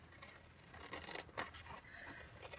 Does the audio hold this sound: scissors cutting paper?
yes